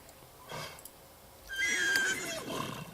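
A horse in The Sims 3 lets out a clear, drawn-out whinny midway through, preceded by a softer snort-like sound over faint game ambience.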